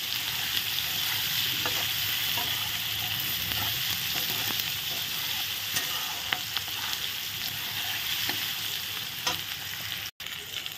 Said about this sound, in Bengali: পেঁয়াজ রসুন দিয়ে একসঙ্গে ভাজা ভাজা করে নিচ্ছি।